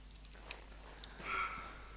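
Dog barking in the Hunter Classic hunting game: a few brief, faint barks and yips at a distance over a low steady hum, with no one speaking.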